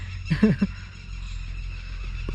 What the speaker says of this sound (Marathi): तो कुठला तरी पक्षी आहे तो आवाज करतो आहे